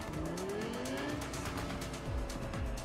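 A car is driven in Cyberpunk 2077 with a steady engine drone and rising engine tones, plus a couple of brief swooping sweeps near the end, continuous and fairly loud.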